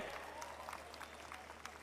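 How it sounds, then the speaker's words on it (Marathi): A crowd at a public meeting in Maharashtra applauds with a dense, steady clapping that sounds distant and fairly faint, with voices mixed in. "टाळ्या महिलांच्या जोरदार वाजल्या पाहिजेत"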